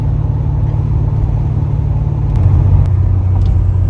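A car with more than 217,000 miles on it, on a road trip near Lake Michigan toward Traverse City, gives a steady, loud interior road rumble and engine hum that shifts slightly partway through.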